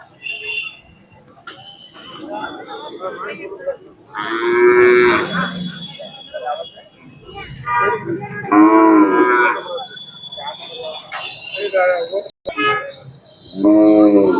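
A large cow moos loudly several times at a livestock show, deep drawn-out calls close by, with people talking in between and a faint ticking now and then.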